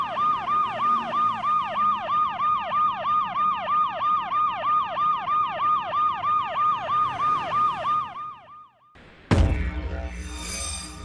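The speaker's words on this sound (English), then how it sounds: "the other road users are unaware of the approaching emergency vehicle" An emergency vehicle siren wails in steady repeating cycles for about eight seconds amid traffic, loud and close, then cuts off abruptly, followed by a burst of rumbling road noise.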